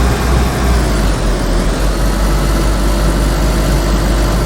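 A Land Rover engine idles steadily in the DayZ video game, a loud, continuous low rumble with a dense, unchanging drone and no pauses, heard alone without any talk.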